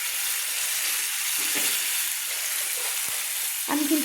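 Spice paste with water frying in a pan for a fish curry with cauliflower and potato, an even dense sizzle with a few spoon scrapes and a knock, ending in a louder stir.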